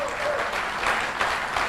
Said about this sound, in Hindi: उस शख्स के लिए तालियां बजा सकते हैं